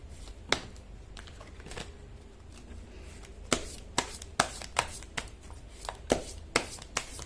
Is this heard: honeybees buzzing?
no